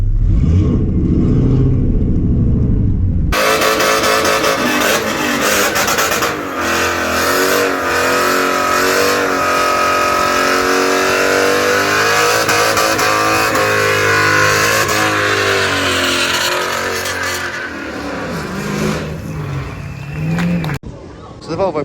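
A Volvo 245 fitted with a V8, towing a trailer, roars through a burnout run at a street weekend event, the engine revving hard and sustained at close range before dropping away near the end.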